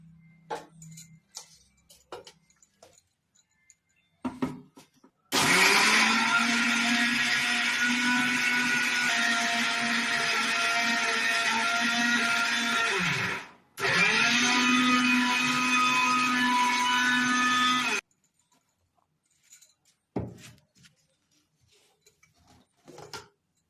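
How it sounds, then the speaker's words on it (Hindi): Dried amla being ground into powder in an electric grinder, running loud and steady for about eight seconds, pausing briefly, then whirring again before stopping, with faint clicks and handling noises before and after. "मैं थोड़ी थोड़ी लेके ये सारा पीसूंगी।"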